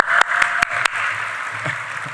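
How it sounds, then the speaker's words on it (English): An audience claps for Natasha Brown's birthday at an energy transmission forum: a steady wash of applause with a few sharp, close claps standing out early, then fading slightly, with no talking. "Everyone give a big round of applause for Natasha again."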